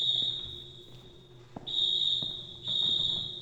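Inside a video game, a fire alarm sounds as a loud, sustained high-pitched electronic tone that cuts out briefly and resumes, with a few soft clicks and thumps in the gaps.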